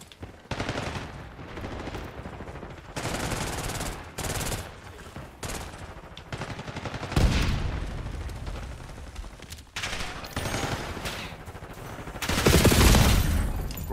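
Rapid bursts of automatic gunfire in a first-person shooter game, loud and close, coming in repeated volleys with brief gaps and a heavier boom-like burst near the end.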